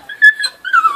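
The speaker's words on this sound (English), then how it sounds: "Oh, four dogs are coming." A dog's high, whistly whimpering and yips in two short bursts, close by, with no talking.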